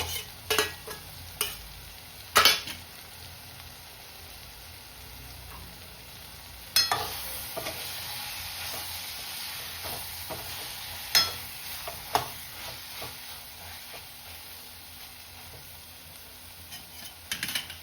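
Paneer is dropped into a pan of spicy masala and fried, giving a quiet, steady sizzle broken by sharp spoon scrapes and clinks as it is stirred.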